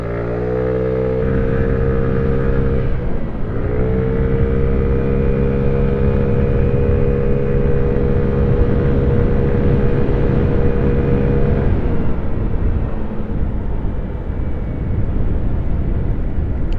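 A Honda Ruckus scooter fitted with a new variator and CDI accelerates at full throttle, its engine droning loud and close with a steady rising whine, a brief dip early on, then wind rush as the pitch settles.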